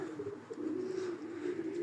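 Pigeons coo in a crowded breeding loft, a low, continuous rolling murmur of several birds close by, fairly quiet and without talk.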